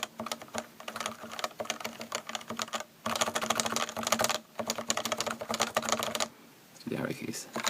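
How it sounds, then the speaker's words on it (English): Someone mashes a Topre keyboard fitted with HHKB keycaps, producing dense, rapid clusters of muted, thocky keystrokes in bursts with short pauses, close-up and fairly loud. "this is what it actually sounds like if I mash it"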